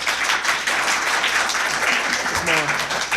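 Live podcast audience at a science-skeptic convention applauding, a dense steady wash of clapping throughout with a voice briefly breaking in near the end.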